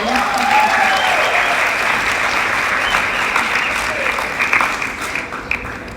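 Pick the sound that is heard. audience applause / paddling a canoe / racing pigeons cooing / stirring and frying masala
audience applause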